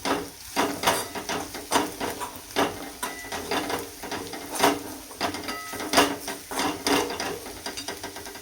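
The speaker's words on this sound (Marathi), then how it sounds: "आता मसाला आहे तो आपल्याला छान परतून घ्यायचा आहे." Kashmiri red chili masala sautéed in a pan, with repeated scraping and clacking of a spatula against the metal over a steady low frying hiss, close and moderately loud, no talking.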